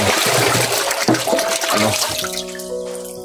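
Water pours and splashes into a cleaned water container, a loud, gushing stream whose pitch rises into ringing tones as the vessel fills.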